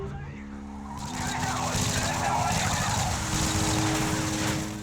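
A truck in Call of Duty Modern Warfare 3 is forced to skid to a halt, with a loud continuous screech of tires over a rumbling engine. The screech grows and holds for several seconds amid vehicle noise.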